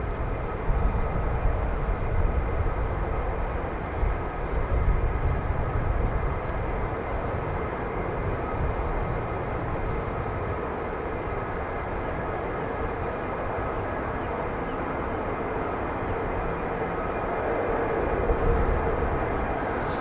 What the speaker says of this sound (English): the aircraft to taxi down the catwalk